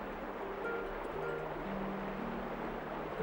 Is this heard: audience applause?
no